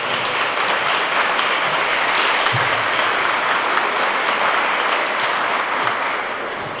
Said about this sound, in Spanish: quiero que se rinden ustedes un fuerte aplauso